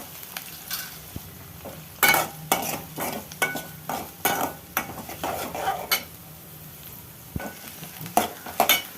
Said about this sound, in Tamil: இப்போ ரெண்டுமே எண்ணெயில் கொஞ்சம் நல்லா வதங்கட்டும்